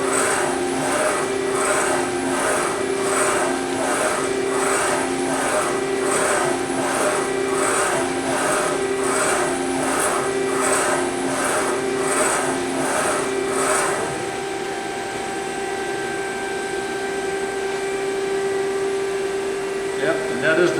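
A Sunnen SV-500-S2 vertical CNC single-spindle servo honing machine hones a cylinder held in a fixture, making a rhythmic, repeating scraping stroke for about fourteen seconds before settling into a steadier mechanical hum.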